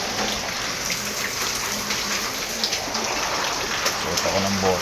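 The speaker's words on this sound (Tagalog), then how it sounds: "Ang baha, oh. Malapit na umaabot sa amin, oh." Heavy rain pours steadily outside during a flood, a dense continuous hiss of drops on surfaces with rushing water beneath, close and loud throughout, with faint voices talking in the background.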